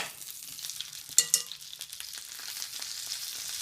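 Wild duck breast sears in a pan with a faint continuous hiss and crackle, broken by a couple of brief louder pops or utensil taps near the middle, heard up close and quiet.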